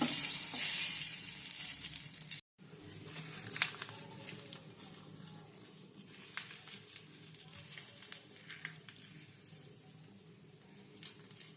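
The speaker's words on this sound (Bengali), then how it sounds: "ভালো করে ভেজে নেব এখন এগুলো আমি" Onions and chilies fry steadily in a pan while a tomato bhorta is being made, with a continuous close sizzle and crackle broken by a brief dropout. Light stirring scrapes and soft patters come through the hiss.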